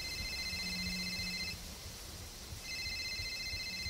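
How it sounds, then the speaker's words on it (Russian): In the video game Saiko No Sutoka, a phone rings with a steady electronic tone in two bursts separated by a short pause, over quiet background noise. "У нее телефон звонит."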